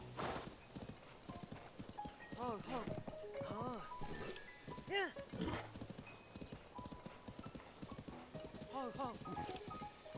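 Horse hooves clip-clopping in Zelda: Tears of the Kingdom, a quick rhythmic run of steps with occasional whinnies, fairly faint and mixed under in-game voices and a person speaking.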